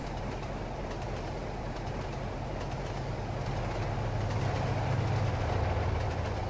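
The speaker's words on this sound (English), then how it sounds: "Here comes a train." A short commuter passenger train rumbling past in the video game Train Simulator 2012, a steady low roar that swells louder toward the end, with no talking.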